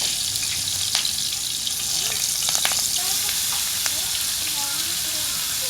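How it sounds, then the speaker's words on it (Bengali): Small icha prawns frying in oil in a wok make a continuous loud sizzle, with faint clinks and a few chirpy background tones. "কড়াইতে মাছগুলো দিয়ে দিলাম"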